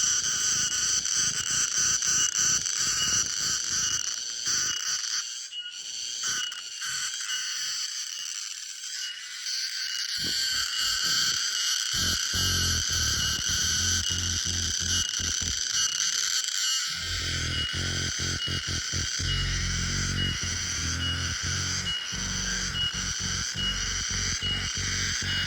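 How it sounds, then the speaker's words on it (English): A big green cicada calls with a loud, buzzing drone that pulses and stutters in rapid rattling bursts, pausing briefly before resuming over a long stretch, close and alone. "Yeah, big green cicada."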